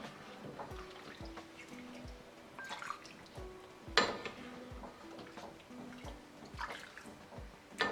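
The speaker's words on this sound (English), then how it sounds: "So I'll just pour some into my bowl." Sheer khurma, a sweet milk dessert, is ladled into a bowl with soft drips and trickles, a few light clinks of a spoon against the dish, close and quiet.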